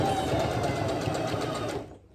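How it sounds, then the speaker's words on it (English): A new sewing machine stitches with thick nylon thread, a fast steady mechanical whir with a rapid needle rhythm that stops abruptly near the end. "This is a new sewing machine, by the way."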